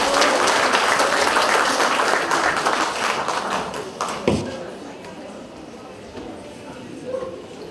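Audience applause at a small-town Easter festival stage event in Lubawka, a dense steady clapping that gradually fades while a presenter speaks over it.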